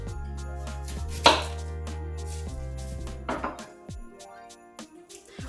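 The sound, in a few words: chopping a medium-sized onion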